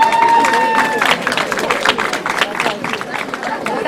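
Audience at a high school graduation ceremony applauds the graduates, loud rapid clapping mixed with crowd chatter and a speaking voice, staying busy and uneven across the whole stretch.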